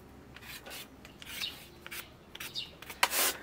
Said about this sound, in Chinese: 把土豆皮儿削了，